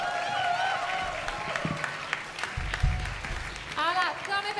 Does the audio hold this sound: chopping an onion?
no